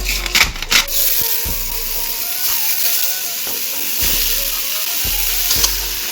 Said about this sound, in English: I'm going to sear it up so that it could contain and hold its flavor